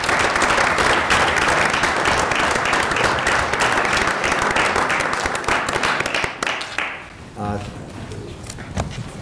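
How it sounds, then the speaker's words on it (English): Applause from the audience at a Bay County Board of Commissioners meeting fills the room with dense, steady clapping for about six seconds, then fades out to a few scattered claps under a voice. "Let's give all these folks one round of applause."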